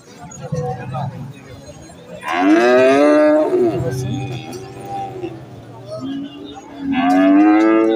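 A native-breed bull at the Bengula cattle market moos loudly twice, a long bellow early on and another near the end, with people talking around and between the calls.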